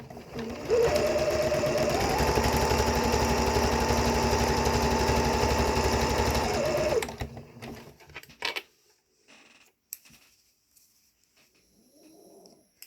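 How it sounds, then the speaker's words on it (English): A sewing machine stitches the side seams of a pair of fabric undies, running in one loud, steady burst for about six seconds before stopping, followed by a few quiet clicks and handling noises. "these are the side seams. Stitch those together."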